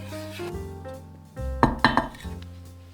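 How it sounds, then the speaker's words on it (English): Stirring water and salt in a metal pot for choux pastry: a spoon scrapes and clinks against the pot, with a few sharper metallic knocks in a loose rhythm, close and fairly quiet. "Start by stirring the water and salt together."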